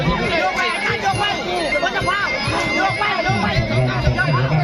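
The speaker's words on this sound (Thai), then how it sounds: "เชียร์แดงเยอะครับเจ้าบ้าน" A dense crowd at a Muay Thai boxing match roars and shouts steadily at ringside, with a commentator's voice running over the busy cheering.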